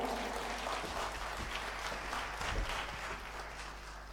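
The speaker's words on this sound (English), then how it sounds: "Please give an applause." Audience applause fills a hall at a 2017 social innovators conference, a steady dense clapping that holds for about four seconds without anyone speaking.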